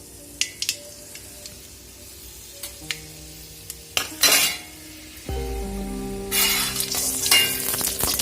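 Chana dal and mustard seeds frying in oil for a tapioca poriyal, starting with scattered clinks and spoon taps, then a loud burst of sizzle, a low rumble and crackling spitting oil.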